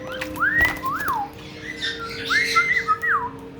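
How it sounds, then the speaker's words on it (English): A pet bird bathing gives squawks and whistled chirps in short bursts over a faint steady hum, close to the microphone, with no talking. "That's Spiky Bird having a bath"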